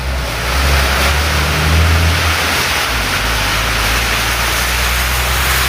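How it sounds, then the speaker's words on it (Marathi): Heavy unseasonal summer rain pours in a loud, constant hiss, mixed with the low hum and rev of a nearby bus engine. "पावसाचा आवाज येत असेल मित्रांनो"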